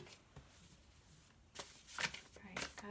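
A deck of tarot cards is shuffled by hand, with a few soft riffles and slaps that grow louder toward the end, heard close and quiet.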